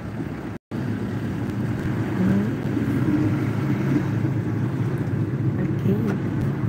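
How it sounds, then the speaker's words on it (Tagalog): A loud, constant motor engine drone, probably on a boat, rumbles on with wind buffeting the microphone, continuing almost without a break through the whole stretch. "Uy, ingay naman ng motor."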